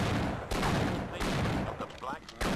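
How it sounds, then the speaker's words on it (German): Dense bursts of gunfire in the video game Half-Life: Decay, loud and close, coming in rapid clustered volleys with short gaps and nearly filling the whole stretch. "Was schießt denn jetzt hier rum?"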